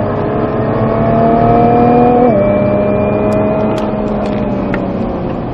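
A Nissan GT-R accelerates hard on the Chambley race circuit, its engine droning loud and close from inside the car, rising in pitch, dropping at a gear change, then pulling steadily again.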